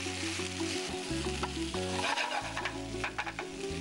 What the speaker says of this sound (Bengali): চালটা আর চিংড়ি মাছটা একসাথে ভাজা ভাজা হবে।